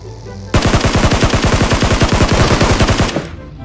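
Rapid automatic gunfire in the mobile shooter Peacekeeper Elite, a loud close burst of evenly spaced shots lasting about two and a half seconds that starts abruptly and stops sharply, followed by a quieter tail.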